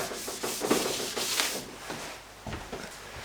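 Close-up, quiet, dry rubbing strokes of an eraser or cloth wiping markings off a chart surface, several short scrubbing passes in an irregular rhythm, alone with no talk.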